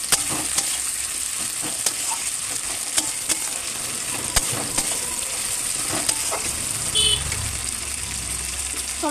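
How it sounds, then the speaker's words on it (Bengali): Chopped tomatoes sizzle and fry in a pan while being stirred, a constant hissing sizzle with scattered spatula scrapes and clicks, close and fairly loud. "টমেটোগুলো দিয়ে ভালোভাবে নেড়ে নিচ্ছি।"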